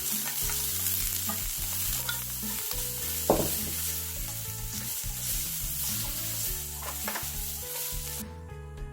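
Julienned carrots and zucchini stir-frying in an oiled pan, a continuous close sizzle with occasional scraping stir sounds, heard under a steady background music track.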